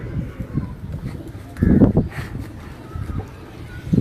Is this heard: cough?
no